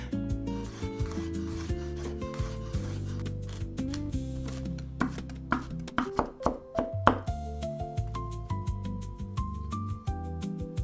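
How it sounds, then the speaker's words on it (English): A knife finely chops garlic cloves on a cutting board, its quick tapping strokes coming faster in the middle, all under steady background music. "3 garlic cloves go on the cutting board, and we finely chop with a knife."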